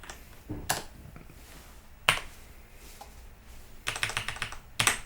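Calculator keys are pressed in short bursts of crisp, close plastic clicks, a few quick taps at a time separated by pauses.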